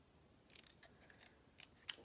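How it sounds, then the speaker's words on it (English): Scissors make a few quiet, separate snips while fussy cutting a paper card image, sharp little cuts spaced irregularly against near silence, the last one crisper and louder. "it's really easy to fussy cut. So just a few little snips."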